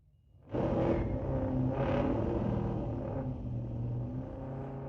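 A 2018 Camaro and a 2016 Charger launch side by side at a street-legal drag race, silence broken by a sudden roaring surge of engines that holds loud and steady as both cars pull away.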